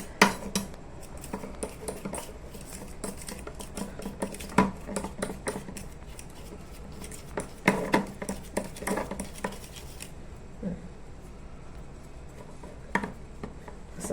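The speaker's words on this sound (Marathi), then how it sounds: "ओके, मध टाकला, हे परत असं मस्त त्याला मिक्स करायचं, कालवायचं, एकजीव करायचं।" A spoon mixing honey into mashed banana in a bowl for a face pack, heard as quick, irregular clicks and taps of utensil on dish, fairly close and moderately loud, easing into fewer taps toward the end.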